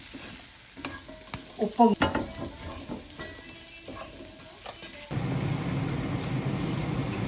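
Potatoes with cumin, masala, chili and turmeric powder frying in a pan: a spoon stirs and scrapes with a few sharp clatters, then a steady, soft sizzle takes over, with a brief spoken word.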